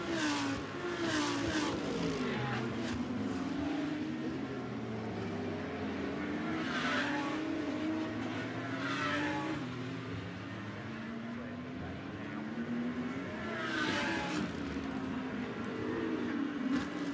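Audi GT race cars battle at Brands Hatch, engines revving and swooping past in repeated rising and falling waves. A commentator talks continuously over the loud, layered engine noise.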